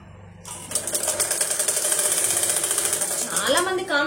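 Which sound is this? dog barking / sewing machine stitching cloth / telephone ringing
sewing machine stitching cloth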